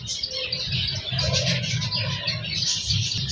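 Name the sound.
caged birds calling at a bird shop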